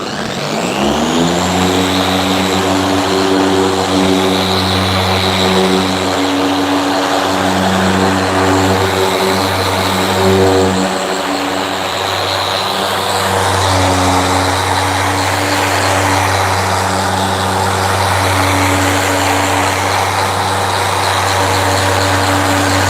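A Halfords machine polisher spinning at speed, a loud continuous motor whine with steady harmonic drone that ramps up at the start and holds evenly, close by with no talking.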